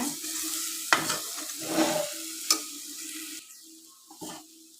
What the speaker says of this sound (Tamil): பார்த்து அடுப்பில் சிம்மில் வச்சு கலந்து விடுங்க